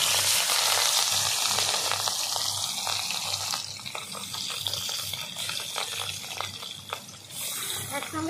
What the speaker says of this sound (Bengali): মাছ এবার ছেড়ে দেবো তেলে।